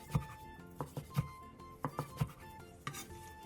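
A knife cuts a thick, cooled rolled egg omelette into slices in a pan, producing a quiet series of soft, irregular taps and clicks from blade on metal, close and alone.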